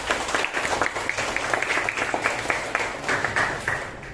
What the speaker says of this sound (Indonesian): Tepukan untuk kita.